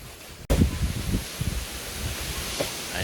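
Steady wind gusting and hissing across an open mountainside in drizzle, loud and continuous with a sharp onset, no voices.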